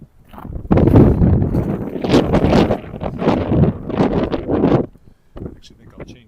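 Blustery winter wind buffets the microphone in heavy rumbling gusts during a walk outdoors, loud and close, easing off near the end.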